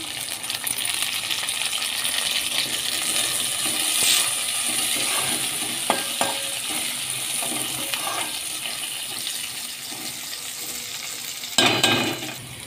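Egg pulusu ingredients fry in a pan with a loud, steady sizzle. A spoon scrapes and clinks against the metal pan now and then, with a sharp clatter near the end. The sound is close, and no one speaks.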